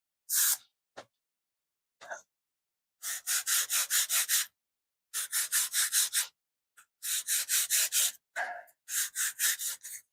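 A wooden beam for a model ship is sanded and cut by hand, heard as bursts of quick rhythmic rasping strokes in close, separated by short pauses.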